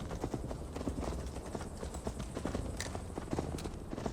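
Horse hooves in the video game Assassin's Creed Valhalla, a steady quick clip-clop of a ridden horse on the ground, soft and continuous with faint background ambience.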